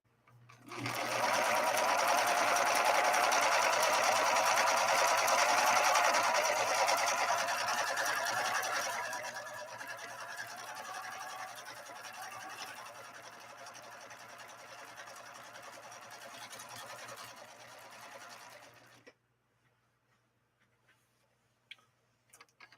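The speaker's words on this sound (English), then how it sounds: "we're sewing with a 9014 leather needle" Viking Husqvarna 3230 sewing machine stitching with a 90/14 leather needle: a steady, close mechanical whirr with fast ticking that runs loud for several seconds, eases slightly, then stops abruptly.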